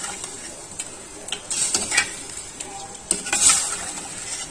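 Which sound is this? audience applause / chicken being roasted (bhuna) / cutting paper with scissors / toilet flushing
chicken being roasted (bhuna)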